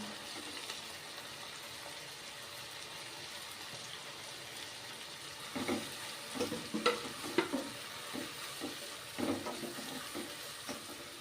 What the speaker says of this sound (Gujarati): ત્યારબાદ બધા વેજીટેબલ એડ કરી દેશું